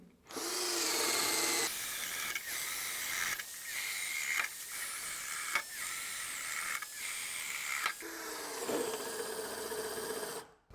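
A Black Tools TB12A drill/driver whines steadily while boring holes, in several bursts of roughly one to two seconds each, with brief pauses and changes in pitch between runs. The tool is close and fairly loud, with no talk.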